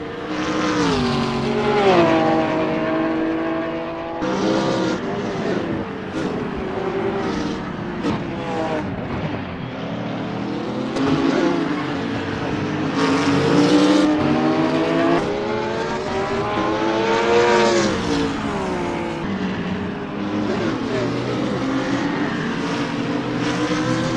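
GT3 race cars, including a BMW Z4 and a McLaren 650, roar around Bathurst in a racing video game, with engines revving and pitch sweeping up and down through gear changes, loud and continuous.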